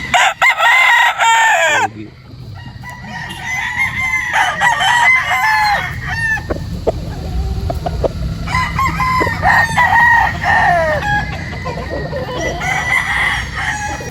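Several gamefowl roosters crow repeatedly at a farm, overlapping calls near and far, with clucking fowl filling the gaps between crows.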